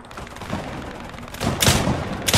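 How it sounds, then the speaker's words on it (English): Shotgun blasts in a multiplayer video game, several loud booming shots in quick succession with a dense burst near the end, amid chaotic game noise. "This shotgun fire."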